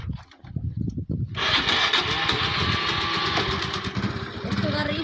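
Scooter engine starting: a brief cranking stutter, then the motor catches and settles into a steady, loud, close whirring idle, with a person talking over it throughout.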